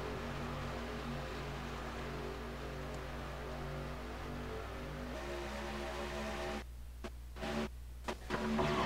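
Racing trucks in a video game run in a pack at Talladega, a steady loud droning engine hum that holds for several seconds before breaking into choppy bursts near the end, with no voices.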